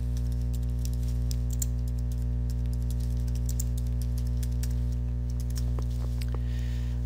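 Rapid typing on a computer keyboard, entering a search phrase in quotation marks; close, steady key clicks over a constant low electrical hum, with no talk.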